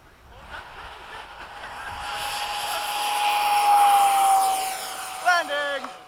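A Hobby King 70mm Skysword electric model jet on 6S power flies past, its ducted fan whine rising steadily to a loud peak and then fading slightly, with a brief voice near the end.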